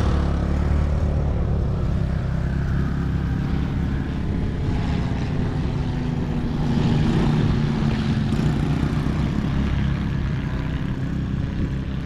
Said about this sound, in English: Airplane going to that little airport RJ was talking about the other day